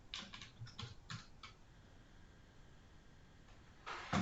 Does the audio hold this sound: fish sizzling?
no